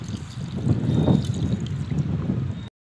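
A glass of water is poured into jamun pulp mixed with sugar, giving a soft, steady gurgling pour that lasts a couple of seconds and then stops abruptly.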